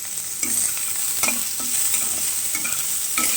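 Onions frying with chopped ginger, garlic and salt give a loud, steady sizzle throughout, with repeated scraping stirs of a spatula against the pan and no voices.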